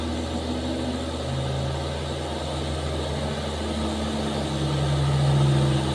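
A Hino 500 box truck's diesel engine drones steadily as it climbs a steep hill at Kedabuhan, a loud, continuous low rumble that swells slightly toward the end with no talk over it.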